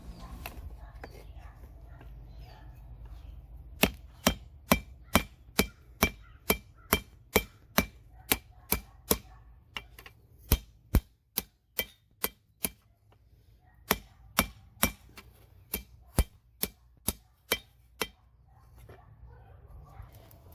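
Hot steel is hammered while the tang of a spearhead is forged, with sharp ringing blows struck in steady runs separated by short pauses, loud and close over faint background noise.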